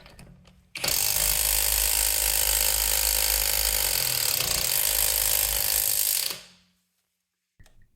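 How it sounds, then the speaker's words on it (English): A Hyper Tough hydraulic impact driver hammers rapidly and continuously on a lug nut for several seconds without loosening it, a loud, harsh mechanical rattle, then winds down and stops abruptly. "it's hammering away, creating crazy vibration, but getting nowhere"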